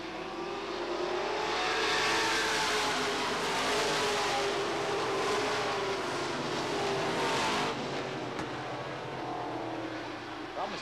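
Late model stock cars run a 100-lap race on an oval track, their engines making a dense, continuous roar that swells and fades slightly as the pack passes.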